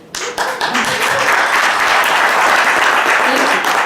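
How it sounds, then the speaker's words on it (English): Loud, dense applause from an audience at a campaign event for a Republican candidate for Pima County Board of Supervisors, starting abruptly and holding steady as a continuous wash of clapping. "you saw this applause"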